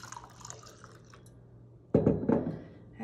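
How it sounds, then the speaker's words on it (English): Water is poured from a container into a small glass for a surface tension experiment, a brief gurgling splash and trickle after a quiet stretch with faint handling noises. "Let's pour some of our water in here."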